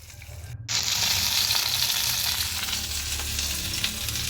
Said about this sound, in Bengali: অন্যদিকে আমি মাছ ভাজা বসিয়ে দিয়েছি